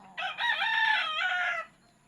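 A single loud rooster crow rings out close by, one long drawn-out call lasting over a second, with quiet surroundings.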